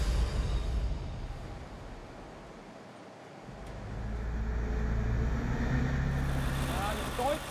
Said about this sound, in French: 1300 chevaux. C'est pour ça qu'ils font autant de bruit.